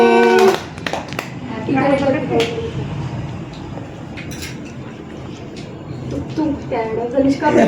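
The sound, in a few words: people clapping hands at a birthday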